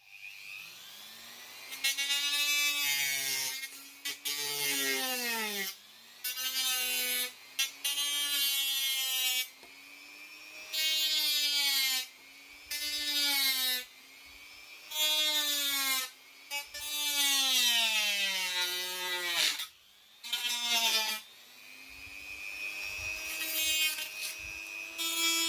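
A power tool fitted with a Permagrit abrasive disc works a wooden panel, its motor whining in rising and falling pitches through repeated grinding passes with short pauses between them.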